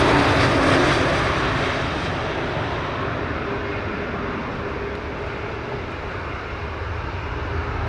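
A Condor airliner rolls past at Montego Bay airport in Jamaica, a loud, steady broadband jet roar that is strongest at the start and eases slightly as it moves away.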